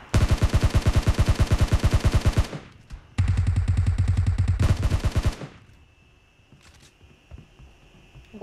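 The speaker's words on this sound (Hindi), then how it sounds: "गोलियां" Two long bursts of rapid automatic gunfire in the PUBG battle game, loud and close with an evenly spaced rattle, followed by a quieter stretch with a few faint clicks.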